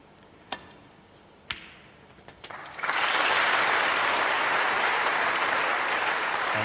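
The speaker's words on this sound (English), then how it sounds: "And a generous round of applause." Snooker crowd at the Guildhall, Preston, during a 2004 Grand Prix match: a few sharp isolated claps, then a dense, steady round of applause from a packed audience that swells in and holds loud to the end.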